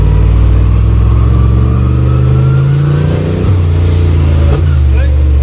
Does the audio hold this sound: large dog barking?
no